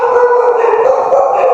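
Dogs howl steadily and loudly in a long, sustained wavering tone that fills the whole stretch, with no talking over it.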